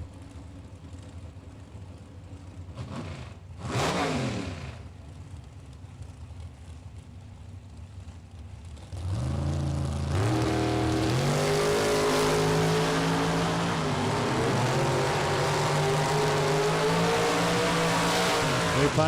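A drag racing car revs briefly in a sharp burst, then launches with a loud, sustained engine roar that climbs through gear changes as it accelerates down the strip.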